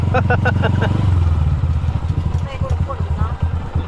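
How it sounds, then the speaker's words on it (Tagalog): Motorcycles with sidecars pull up at a family outing, their mid-pitched engines putting and clattering close by as people talk loudly over them. "Ayan na yung mga motor nila oh."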